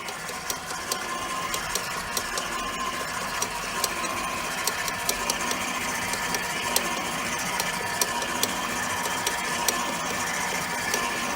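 An electric mixer runs steadily through brownie batter, a constant mechanical whir with a faint rhythmic rattle and small clicks of the beaters against the bowl, fairly close and with no talking.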